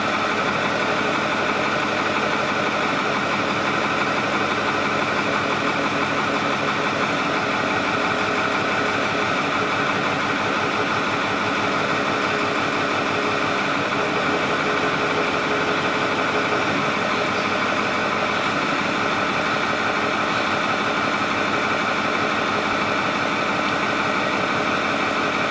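A Ford 6.4 Powerstroke diesel engine with a fault idles steadily, a close, even clatter and hum holding unchanged throughout, with no talking.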